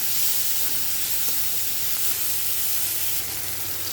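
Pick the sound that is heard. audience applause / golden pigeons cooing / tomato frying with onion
tomato frying with onion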